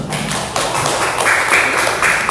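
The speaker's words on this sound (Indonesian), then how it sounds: "Oke, tepuk tangan untuk Misrudi." Students clap in a classroom, a dense continuous patter of applause running steadily for a couple of seconds, fairly close and lively.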